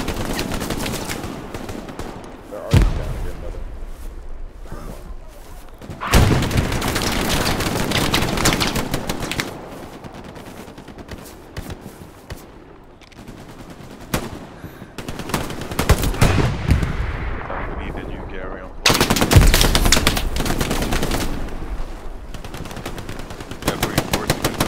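Rapid bursts of rifle and machine-gun fire in the WWII shooter Hell Let Loose, sharp volleys near and far breaking out in clusters between quieter stretches, loud and close at several moments.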